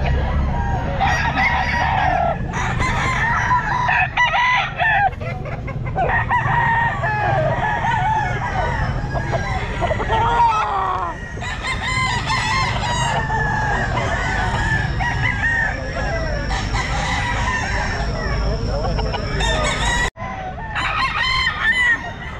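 A young stag rooster crows repeatedly at a Grotto pet market in Palawan, loud and close, its cock-a-doodle-doo calls coming in rapid succession over clucking fowl and general market din.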